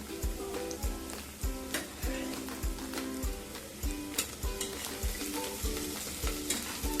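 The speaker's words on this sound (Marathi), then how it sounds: "आलं लसूण घेतलं ना ते टेचून झालं ना ते याच्यात परतून घ्यायचं" Ginger-garlic paste sautés in a pan for masala rice, a continuous crackling sizzle with rhythmic utensil taps and stirring knocks throughout, close and moderately loud, without speech.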